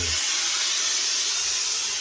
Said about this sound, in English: point the jet of steam away from the hat first of all